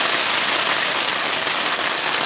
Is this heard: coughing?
no